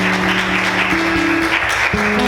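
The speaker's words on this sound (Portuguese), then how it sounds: "Você pode aplaudir o Senhor nessa noite?" Congregation clapping during a Portuguese-language church service, a loud crowd patter under sustained organ or keyboard tones that shift pitch, no speech over it.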